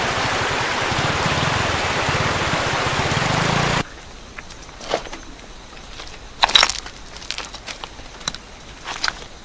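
A strongly flowing river at an eroding, cut-back bank near a newly built bridge, its broad steady rush loud for the first few seconds, then dropping to a faint background with scattered clicks and crackles.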